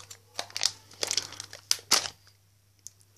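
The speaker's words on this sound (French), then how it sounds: "J'arrive pas à ouvrir le paquet." Plastic wrapping on a Christmas stocking filled with food crinkles and crackles in short irregular bursts, close and fairly quiet, as someone struggles to open the package.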